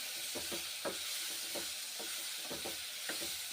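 Pointed gourd frying in mustard oil makes a soft, steady sizzle. Light stirring taps and scrapes return at irregular intervals, all close but fairly quiet, with no voices.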